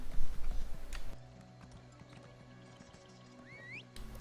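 Horse hooves clip-clop in The Elder Scrolls Online, a loud patter of steps for about a second, then a quieter stretch of faint ticking and ambient game tones with a couple of brief chirps near the end.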